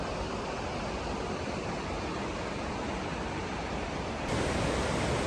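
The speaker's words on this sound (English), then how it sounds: "I didn't know there was a waterfall like that here in Linville Gorge" A waterfall in Linville Gorge roars in a steady, dense wash of rushing water, close and constant throughout, with a slight jump in loudness near the end.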